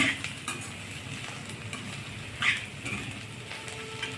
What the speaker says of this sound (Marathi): पुदिना, कोथिंबीर आणि ओलं खोबर घातलं आहे, छान परतून घेणे.